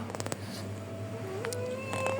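A domestic cat indoors gives a few short meows over a steady electrical hum, with faint rustling and no talk.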